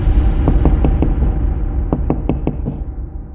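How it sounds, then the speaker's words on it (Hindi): Knocking on a door in two bursts of quick raps, four or five sharp hits each, close and distinct over a low steady rumble. "तभी फिर से किसी ने दरवाजा खटखटाया।"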